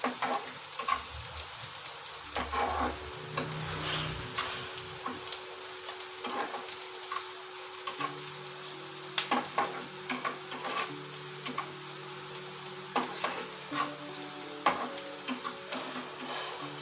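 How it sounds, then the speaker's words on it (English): Garlic, ginger and onion sizzle steadily in a hot pan at home, a close, continuous crackling fry with occasional stirring scrapes and ticks. "So this garlic, ginger and onion fry nicely."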